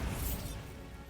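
The Bombarda blasting spell in the video game Hogwarts Legacy, one loud, close crash that fades quickly into a rumbling tail.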